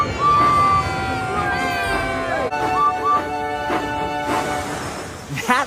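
Cartoon characters in a CGI Thomas & Friends scene cheer for Edward, the blue engine, with a loud, steady wave of cheering and whoops under a sung and orchestral music track.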